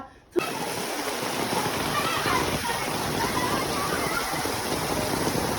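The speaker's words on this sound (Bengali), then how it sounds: "নতুন গ্রামে বৃষ্টি হচ্ছে আর আমরা বৃষ্টিতে পানিতে সবাই মিশতেছি" Heavy rain pours steadily onto a village pond while people splash in the water, a dense continuous wash of drops starting abruptly after a brief quiet moment.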